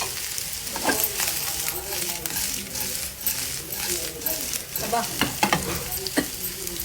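Fried pepper prawns stirred in a hot pan, steady sizzling under repeated scraping and clinking of a spoon against the metal, close and continuous with sharper knocks near the end.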